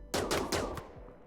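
Three rapid bursts of gunfire in the RimWorld video game, close and sharp, each a quick volley that fades into a short ringing tail, with no talk over them.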